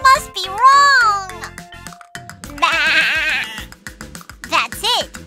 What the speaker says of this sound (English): This is the sound of a fluffy sheep!